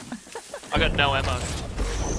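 A weapon is reloaded in the battle royale shooter Apex Legends, with a burst of mechanical clacks and metallic rattling, close and fairly loud, while a voice talks nearby.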